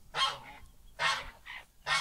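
A goose honks loudly and close by in three harsh, separate calls spaced about a second apart, with a faint higher squawk between them and no voices.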